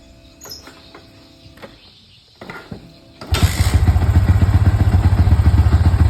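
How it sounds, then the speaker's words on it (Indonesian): An older Yamaha Vixion motorcycle with a battery-drain fault is started after a new regulator is fitted: a few faint clicks and a short crank, then the engine catches at about three seconds and idles loudly and steadily up close. "Kita coba hidupkan motornya"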